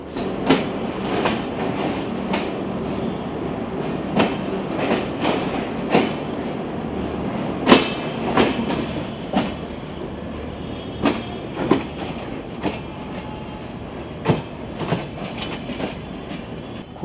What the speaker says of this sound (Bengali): আমাদের ট্রেন ছেড়ে দিল খুলনা স্টেশন কলকাতার উদ্দেশ্যে